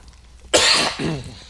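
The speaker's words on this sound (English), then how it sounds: "And a cough break, apparently." A single sharp cough bursts out close to the microphone, followed by a brief throaty clearing sound, in an otherwise quiet room.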